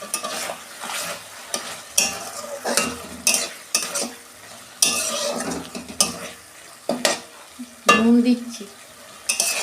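Turmeric, coriander powder and chili being stirred and fried in a pan for a Bengali fish curry, with repeated scraping spoon strokes against the pan over a soft sizzle and a brief spoken word.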